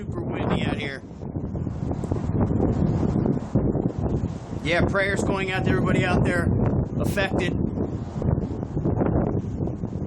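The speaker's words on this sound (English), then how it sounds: "It is super windy out here." Strong wind gusts roar across an outdoor microphone during a severe weather outbreak with tornadoes and high wind, a steady broadband rush that continues under someone talking throughout.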